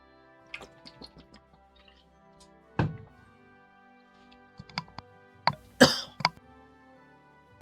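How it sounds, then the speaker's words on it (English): A cough into an open microphone during a game session: scattered sharp throat sounds and short bursts, one louder cough near the end, close and alone with no talk. "I muted my mic and then I coughed into a open mic"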